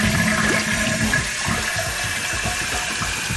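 A toilet flushes just after a tank repair, a loud steady rush and gurgle of water running alone and continuously from start to finish.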